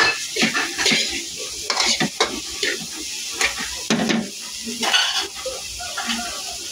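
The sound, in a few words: sisig being stir-fried in a pan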